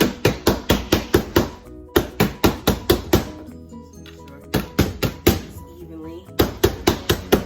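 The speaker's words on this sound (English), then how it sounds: "And then we're gonna give it a tap." Repeated sharp taps of a loaf pan of pound cake batter against a countertop, delivered in quick bursts of several knocks each with short pauses between, close and loud.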